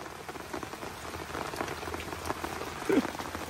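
Rain falls steadily on a surface during a fishing outing, a continuous soft patter of drops at low volume, with a faint brief knock near the end.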